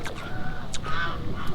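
Goose honking on a farm near a vegetable garden in Xinjiang, a few short, fairly faint honks over low background noise.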